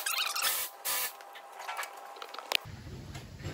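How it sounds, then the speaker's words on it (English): Brake cleaner is sprayed onto a freshly tightened sump plug under a Ford Ranger 2.5 TDCI during an oil change. There are two short hissing bursts close by, followed by faint dripping and shuffling. "just going to give it a quick wash off with some brake cleaner"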